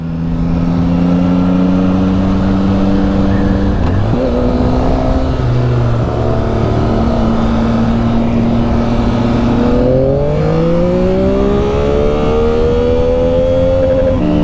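A 2023 Yamaha MT-09 motorcycle engine revs hard and loud up to the rev limiter, its tone climbing and holding near the top, with a gear change partway and another steep rise near the end.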